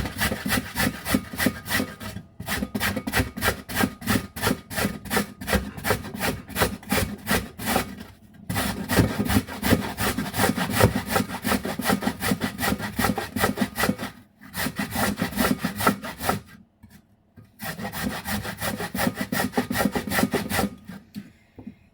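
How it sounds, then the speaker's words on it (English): A carrot rasps steadily against the small holes of a grater in fast, continuous strokes, close and loud, broken by a few brief pauses. "So I've got my carrot, which I'm going to grate."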